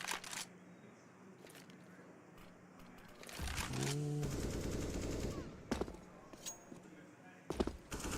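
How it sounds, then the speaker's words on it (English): Bursts of UMP submachine gun fire in a Counter-Strike match during a tournament broadcast, a rapid rattling stretch in the middle with sharper shots and clicks around it, under quiet caster commentary. "And it's the UMP from Suta."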